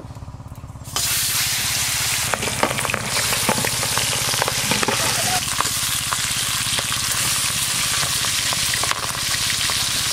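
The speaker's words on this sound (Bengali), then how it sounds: "দুবারে যতগুলো মাছ ভাজা হয় ভেজে নেব," Pieces of boal fish fry in hot oil with a loud, dense sizzle that begins abruptly after a quieter second and continues steadily, with occasional spatters and clinks close by.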